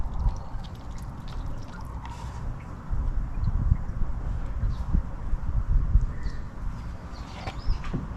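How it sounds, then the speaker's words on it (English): Engine oil is poured into the engine of a 2010 Toyota Sienna, giving a soft, uneven glugging trickle up close with light handling clatter and no talking. "Adding in my engine oil."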